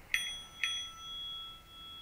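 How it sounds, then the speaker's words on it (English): A small, ornate brass bell is struck twice about half a second apart. Each bright, clear ring decays quickly over a steady, faint background hiss. "then I got this brass bell"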